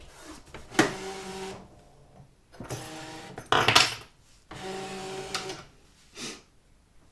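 A ScanNCut cutting machine draws a prepared cutting mat into itself. Its motor whirs nearby in three separate bursts with short pauses between them, and a brief lighter whir comes at the end.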